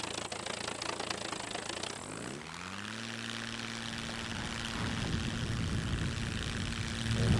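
A propeller airplane in the survival video game SCUM spools up from idle and begins its takeoff run, the engine drone rising in pitch and then holding a steady, loud buzz that swells toward the end.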